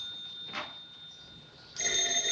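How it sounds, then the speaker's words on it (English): An old-fashioned telephone bell rings in a quiet 1930s room, a faint tone at first, then a louder sustained ring bursting in near the end. "answer the phone once in a while"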